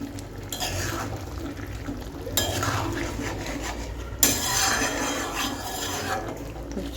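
Spoon scraping and stirring vegetable curry (labra) frying with ghee in a pan, steady rasping and rubbing with occasional louder clinks against the metal, close and continuous.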